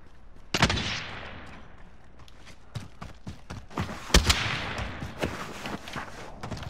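Gunfire in the Warzone video game, sharp cracking shots, some singly and some in short bursts, loud and close over a low background rumble.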